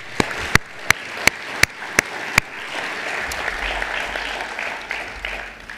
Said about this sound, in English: Maybe we could applause Christian and all the Alliance partners for the organization.